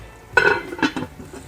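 A lid goes onto a cooking pot of Jamaican salt mackerel run down: a sharp metallic clink followed by a couple of lighter rattles as it settles, close by, short and without talk.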